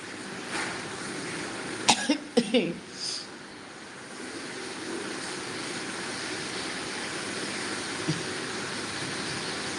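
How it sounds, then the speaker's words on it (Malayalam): A person with a fever coughs in a quick cluster of three or four sharp coughs against a steady background hiss, with another faint cough later on. "പനി ചുമ ഇതൊക്കെയാണ് വിശേഷം"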